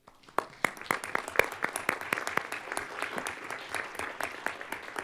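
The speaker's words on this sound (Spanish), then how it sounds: "me gustaría que se le dé un fuerte aplauso" A general assembly audience on the press freedom committee gives a strong round of applause, with crisp separate claps that start sharply and carry on at a steady, moderate level.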